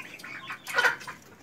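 Young Black Australorp hens and roosters, 75 days old, cluck softly in a short, close burst of chirpy, throaty notes, with one brighter call in the middle.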